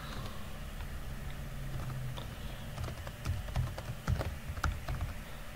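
A password being typed on a computer keyboard, quiet close key clicks, sparse at first and then a quicker run of taps over a steady low room hum.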